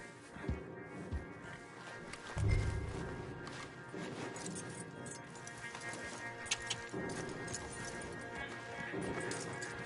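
Horse hooves clip-clop faintly in the Red Dead Redemption 2 video game as riders lead stallions, with irregular soft thuds beneath quiet ambient sound and a brief heavier knock partway through.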